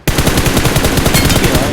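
Rapid automatic gunfire in a battle royale mobile game sounds as one loud, continuous burst of closely spaced shots lasting under two seconds, with no speech over it.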